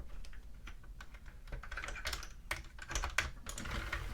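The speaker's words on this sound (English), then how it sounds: "Now I'm going to knit back" A Sentro or Addi circular knitting machine knits a row, its crank and needles giving a rapid, continuous plastic clatter close up, with no talking.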